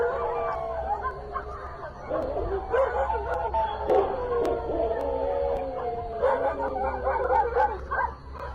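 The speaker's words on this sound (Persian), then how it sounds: "بچه صدای سگا رو شنیدید؟ چجوری واق واق میکردن" Several dogs barking, yipping and howling near a home security camera, a busy overlapping chorus that runs throughout with some chatter mixed in.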